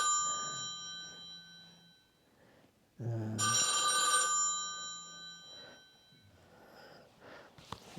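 A mobile phone rings in a lecture hall with bright electronic ringtone tones, repeating in bursts with a louder peak midway, while someone speaks intermittently nearby.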